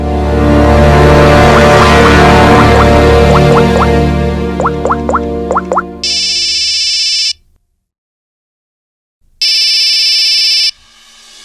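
A telephone keypad beeps out a short run of dialing tones, then a loud electronic ring sounds twice with a pause between, close and clear with no talk over it.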